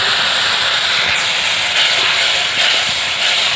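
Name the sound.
water added to spice paste in hot pan, hissing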